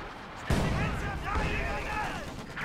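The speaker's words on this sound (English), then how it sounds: "Second Su-76 barrage is being fired on this reinforced point" An Su-76 self-propelled gun firing a barrage in a real-time strategy video game, a loud booming report followed by rumbling impacts, with a commentator speaking over it throughout.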